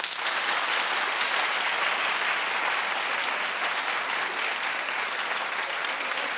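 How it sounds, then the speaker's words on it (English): Studio audience applauding, a dense, bright, even roar of many hands clapping at full volume from start to finish with no pauses. "Clap if you don't mind this. Clap if you hate this."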